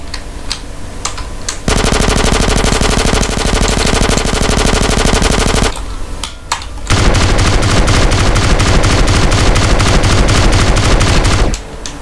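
Long, loud stretches of rapid machine-gun fire from a GTA San Andreas gang shootout, two sustained bursts of several seconds each, separated by brief gaps holding a few single shots.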